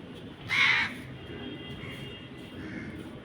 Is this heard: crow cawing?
yes